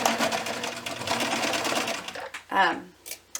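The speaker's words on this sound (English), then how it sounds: "I'm literally just gonna sew along the edge of my fleece here, on that raw edge at about 1/4 of an inch" A sewing machine runs steadily along the raw edge of layered fleece for a braided fleece blanket, stitching about a quarter inch in, with fast continuous stitching that stops partway, followed by brief talking.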